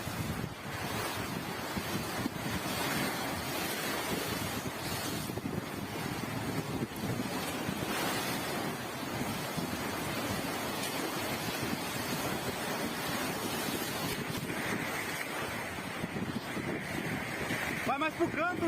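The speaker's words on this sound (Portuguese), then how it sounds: "olha como é que estavam batendo as ondas dentro da casa" Waves crash and surge inside a flooded house, a loud, continuous churning wash of water with wind noise on the microphone, and voices faintly audible beneath it.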